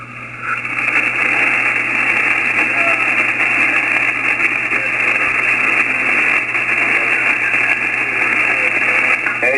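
An amateur radio receiver tuned to a net gives a steady, loud hiss of static. A very faint station sits barely above the noise throughout, with no clear break in the rushing sound.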